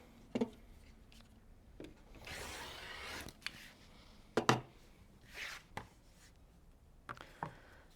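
A rotary cutter or blade slices through a quilting fabric strip on a cutting mat, producing a few short scraping strokes and taps with soft rustling between them, close and quiet.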